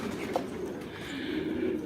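Pigeons in a large flock of about 140 post-type birds coo softly in low, throaty murmurs, with faint wing shuffles and background noise throughout.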